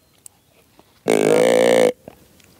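A single loud, drawn-out burp lasting under a second breaks an otherwise quiet outdoor scene during a deer hunt.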